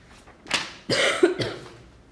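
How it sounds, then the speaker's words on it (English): A few sharp, close coughs in quick succession, harsh bursts separated by short pauses. "Sorry if I'm coughing on you guys up front."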